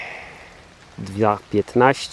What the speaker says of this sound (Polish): choć przy padającym deszczu